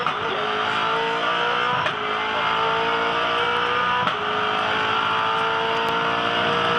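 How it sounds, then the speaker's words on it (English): Ford Falcon V8 Supercars racing at the Darwin Triple Crown, a loud, steady engine roar with gear changes and brief shifts in pitch, close and continuous without talking. "You can see how much Van Gisbergen is wrestling his Falcon to stay in front of Whincup"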